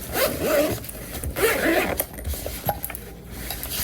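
The zipper of a pouch is pulled open in several quick rasping strokes, close and crisp, with small rustles between pulls.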